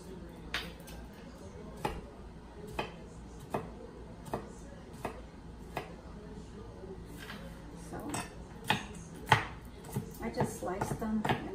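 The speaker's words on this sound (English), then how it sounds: "we're going to cut up our garlic cloves. We're just going to coarsely cut them." A knife coarsely chops garlic cloves on a cutting board in a home kitchen, with a pan heating nearby. About a dozen sharp, regularly spaced taps come close and clear, quickening toward the end.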